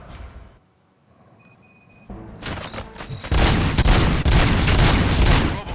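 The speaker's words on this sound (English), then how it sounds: "Gunshots? What's going on?" After a near-silent moment with faint beeps, a burst of rapid gunfire erupts in the video game Robocop: Rogue City, sustained loud shots and booms filling the rest.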